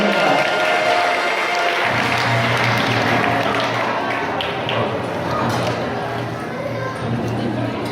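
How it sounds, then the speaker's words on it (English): A crowd at a sheep show applauds continuously and fairly loudly for several seconds, with a low steady hum underneath. "Let's give Gandalf a big round of applause."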